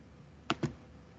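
Two quick computer mouse clicks in a quiet room, sharp and close together, standing alone over faint background hiss.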